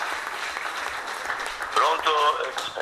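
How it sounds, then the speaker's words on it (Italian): Audience applause fills a conference hall in Rome at a political convention, a steady broadband patter of clapping that swells near the end, with voices speaking over it. "Fate un applauso."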